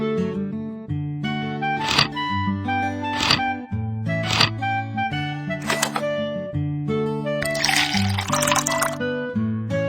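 A cartoon water-pouring effect plays over bright background music in an animal rescue video game, as water is given to a rabbit, with a burst of liquid splashing near the end.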